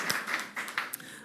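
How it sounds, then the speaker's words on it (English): Scattered, sparse claps from a small press-conference audience, a handful of separate hand claps spread unevenly over about a second, fairly faint and without a full burst of applause. "You can clap if you want."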